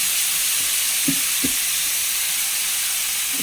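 Salted long bean stir-fry tossed in a hot pan, a steady loud sizzle and hiss with a couple of faint stirring scrapes near the start.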